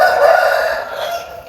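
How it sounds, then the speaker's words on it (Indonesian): A rooster crows at dawn, one drawn-out cock-a-doodle-doo heard alone and fairly loud, close by. "Ayamnya udah berkokok, udah mau pagi."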